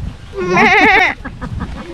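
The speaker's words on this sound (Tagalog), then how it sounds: "Pakainin yung kambing namin." A goat at South Farm in Panglao, Bohol gives one loud, close, wavering bleat lasting about half a second, followed by quieter rustling and background noise.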